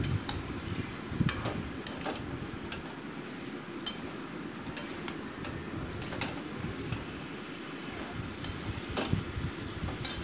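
Boiled jackfruit pieces being stirred and sautéed in a pan for a Bengali prawn dish, steady sizzling under frequent metallic scrapes and clinks of a spatula against the pan, close and fairly loud, with no voices.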